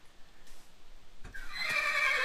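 A horse whinnies in a video game about breeding pegasi, packhorses and nightmares, a single loud, clear neigh after a couple of soft thuds, rising and trailing off toward the end.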